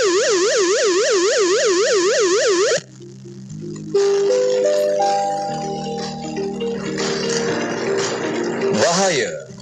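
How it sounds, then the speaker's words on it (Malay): A flood danger warning siren sounds as the river passes the danger level, opening with a loud wailing that rises and falls, then giving way to sustained tones and a spoken announcement. "bunyi siren bahaya"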